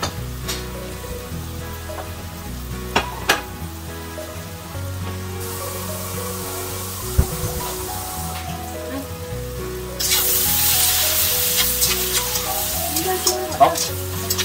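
Zucchini and eggs stir-frying in a pan, a steady close sizzle with repeated scraping and tapping of a spatula against the pan, growing louder and brighter toward the end, with no voices.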